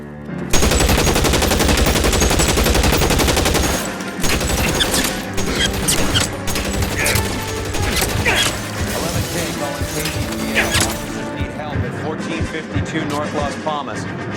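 Heavy gunfire from the L.A. Noire video game, with a loud, dense burst of rapid automatic shots followed by irregular single cracks and impacts under game sounds, continuing for the whole stretch.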